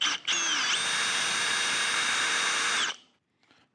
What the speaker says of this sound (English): just drill a hole right down through the center